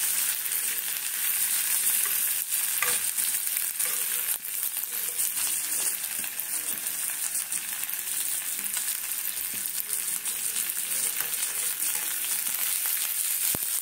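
Drumstick leaves and green chili fry in a pan while being stirred, giving a steady, close sizzle with scraping and crackle that runs the whole time, with no talking.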